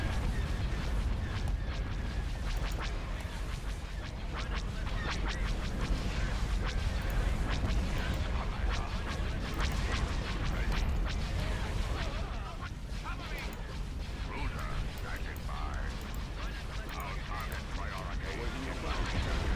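Space battle explosions from the Star Wars Thrawn's Revenge game, a dense continuous barrage of booming blasts and gunfire-like bursts layered under game sound and occasional speech.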